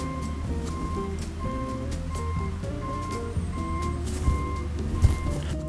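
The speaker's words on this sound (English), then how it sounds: "Garbage trucks, when they show up and they have to back up and they have that backup noise sound horn." A garbage truck backing up sends out steady reversing beeps over a constant low engine rumble, the tones repeating evenly and fairly loud, with a few brief clunks near the end.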